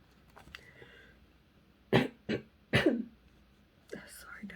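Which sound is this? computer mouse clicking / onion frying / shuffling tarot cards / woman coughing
woman coughing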